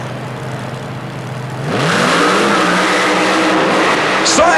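A modified 5-window early model Ford coupe with a Chevrolet engine, mud racing in the Superdome in 1991, idles loudly and then revs up hard into a rising, sustained roar.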